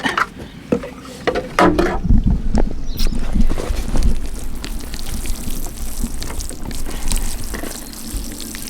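Water pours and splashes steadily onto soil, a continuous trickling wash with a few soft knocks near the start.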